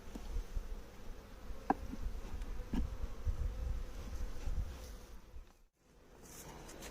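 Honeybees buzzing during a hive inspection, a soft continuous drone of many bees close by with a few brief clicks and handling knocks, no talking.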